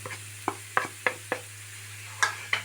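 Spice masala of turmeric, garam masala and chilli powder frying in a pan while a spoon stirs it, giving a steady low sizzle broken by about seven sharp scrapes and taps against the pan, close up and without talk.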